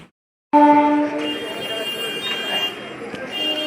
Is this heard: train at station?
yes